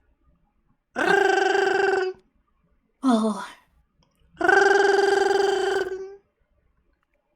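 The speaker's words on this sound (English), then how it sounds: "you can hear a distant ringing, like a telephone ringing" Ringing of a far-off telephone, as if from a priest's office nearby, in a tabletop role-playing session: two long harmonic rings with a shorter burst between them, clear and alone, then quiet.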